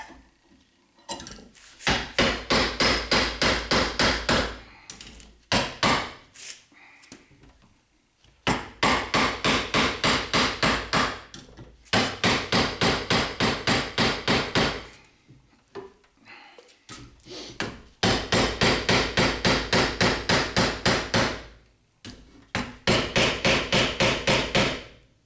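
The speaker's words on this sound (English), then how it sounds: "I'll go ahead and draw it down with the mallet and the handle here. And that's going to further shape the metal." A mallet strikes a sheet metal rib against a form block in three long bursts of rapid, evenly spaced ringing blows, loud and close, with short pauses between runs.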